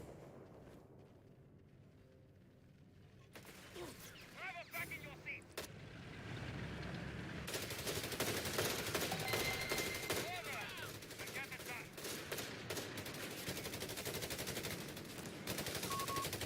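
Machine gun fire in the World War II strategy game Company of Heroes 3, with long bursts of automatic gunfire and scattered shots running loudly and continuously over battlefield noise after a quieter opening.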